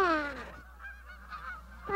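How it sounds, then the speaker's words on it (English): A Canada goose gives a loud, close honk, followed by fainter honking from other geese on the lake. "Look at all the Canada geese that are there."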